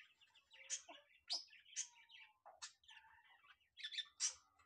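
A male and female budgerigar pair chirp close by in quick bright bursts, a string of sharp tweets and warbling chatter with short gaps, the pair alone in a quiet room.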